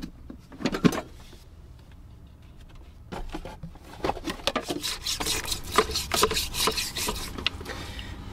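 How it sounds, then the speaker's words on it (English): A dish brush scrubs plastic Berkey water filter candles, giving a rough rasping rub in irregular bursts, sparse at first and then steadier and louder through the second half, close up with no talking. "Cleaning off these filter candles is a pretty easy process. I just use a brush. I just use my dish brush."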